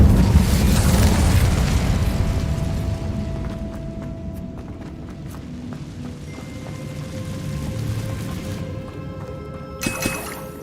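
An Incendio fire spell cast in Hogwarts Legacy, opening with a loud whooshing, roaring blast that slowly fades into softer ambient rumble, with a sharp crackle near the end.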